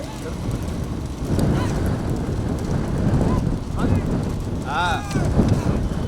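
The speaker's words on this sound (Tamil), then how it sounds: "நேரம் ஆக ஆக காத்து ரொம்ப அடிக்குது" Strong wind buffeting a microphone outdoors at a bullock cart race in Vadakku Karaseri, Thoothukudi district, a steady broadband roar with faint tonal honks and distant voices mixed in.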